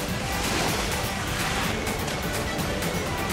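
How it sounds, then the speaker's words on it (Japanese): Ocean waves washing against a rocky shore on a hot summer day, a steady loud roar of surf with wind, continuous and close, with no talking. "波の音がめっちゃ気持ちいい"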